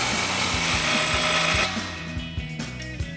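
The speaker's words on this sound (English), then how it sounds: "take our 15mm socket on our impact and tighten this clamp down" Impact wrench with a 15mm socket tightening an exhaust clamp at the slip joint of a 2005-2008 Corvette axle-back exhaust, a loud close whirring buzz with rhythmic hammering pulses that drops to a softer, lighter rattle halfway through.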